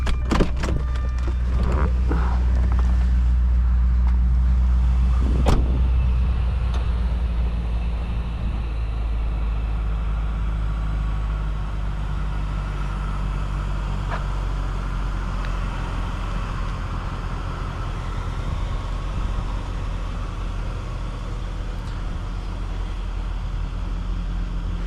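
A 2003 Jaguar S-Type R with a supercharged V8 catches with a short burst early on, then settles into a steady, deep idle rumble that holds close and even to the end, with no talking.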